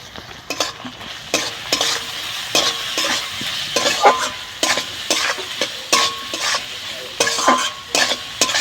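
Dried shutki fish frying in a pan with salt and turmeric, with repeated sharp spatula scrapes and stirring clatter in an uneven rhythm over a constant close sizzle.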